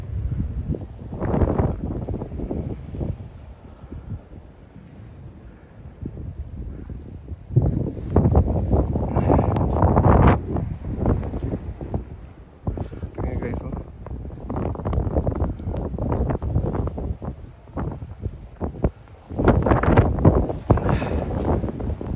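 Strong gusty wind roaring across a microphone during a Toronto winter snowstorm with massive snow, rising and falling in loud buffeting bursts, with a person speaking at times.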